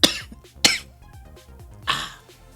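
A person coughs in three sharp, close bursts spaced across a couple of seconds, each followed by a rough, breathy tail and some throat clearing in between.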